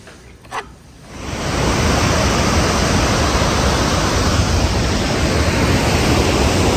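A creek-sized river in New Zealand rushes in a dense, steady roar. It swells in after a brief quieter moment, then stays loud and close throughout.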